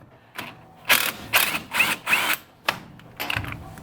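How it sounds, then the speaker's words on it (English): A ratchet socket wrench removes bracket bolts from a snowmobile's rear suspension torsion spring, giving close, loud bursts of rapid clicking ratchet strokes, about five in a row with brief pauses, and no talking. "you can grab your 6 millimeter and your 13 millimeter and remove the torsion spring bracket"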